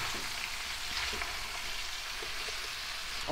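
Chicken and vegetables sauté in a pot with a steady, close sizzle and faint crackle throughout, rising slightly at the very end, with no talking.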